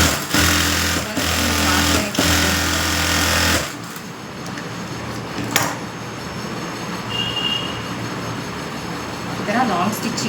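A sewing machine whirs in loud bursts for about four seconds while stitching a blouse sleeve, with brief stops between runs, then fades to quieter room noise with a few faint clicks.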